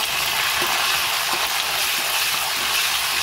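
Curry leaves crackling in hot oil with cumin and fenugreek seeds over browned onion for a meatball kuzhambu, a steady close sizzle with a few soft pops and no talking.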